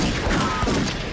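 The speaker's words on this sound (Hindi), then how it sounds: "उसमें पार्किंग लॉट में शूट आउट हो रहा होता है।" Gunfire from a film shootout in a parking lot, heard as a dense, loud burst of overlapping shots and thuds packed into about a second.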